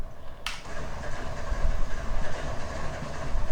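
Train cars roll along the track in the Run 8 Train Simulator game near Edwards Air Force Base, with a low steady rumble and faint clatter and a sharp click near the start.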